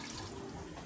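Water pours steadily into a pot for mutton biryani, six glasses for four glasses of rice, a faint continuous splashing stream with no talk.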